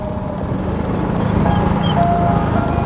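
A purple ice cream van plays its looping jingle amid steady street and traffic rumble, fairly loud and continuous, with no voices.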